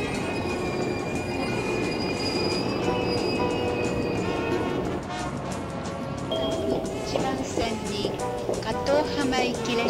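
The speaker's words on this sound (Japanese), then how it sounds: "まもなく2番線に東大公園行き列車が参ります。" A train arrives at platform 2 of a Japanese station, bound for Tōdai-kōen, with loud wheel squeal and rolling clatter as it slows nearby while a public-address voice talks over it.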